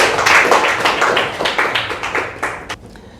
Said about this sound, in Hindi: इनके लिए एक बार ताली हो जाए।